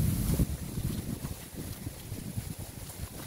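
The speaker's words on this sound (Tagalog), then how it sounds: "Ang lakas ng hangin, ang lamig." Strong, cold provincial wind in the Philippines buffets the microphone in heavy low gusts, loudest at the start, with no talking.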